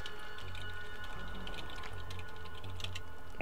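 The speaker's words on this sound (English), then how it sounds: "Sorry, I was typing with somebody." Continuous typing on a computer keyboard, fast irregular key clicks close up, over a steady low hum from a Fallout: New Vegas game playing in the background.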